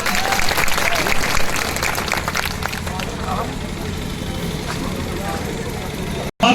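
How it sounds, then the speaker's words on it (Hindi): Crowd applause at a political rally in Azamgarh, loud and sustained for several seconds with a background engine hum, then cutting off abruptly near the end. "जोरदार ताली हो।"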